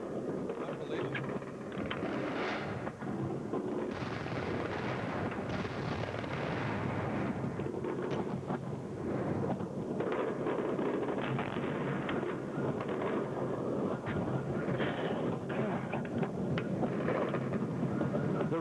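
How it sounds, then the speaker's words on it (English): Cruise missile strikes on Baghdad during the 2003 shock-and-awe bombardment, with a continuous roar and rumble of distant explosions and booms that lasts throughout, steady and heavy, with no speech over it. "These explosions are continuing."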